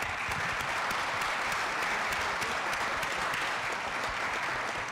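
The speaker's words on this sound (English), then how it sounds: "Please join me in giving all of our employees a big round of applause." A council meeting audience gives the city employees a sustained round of applause, a continuous, fairly distant wash of clapping with no one talking.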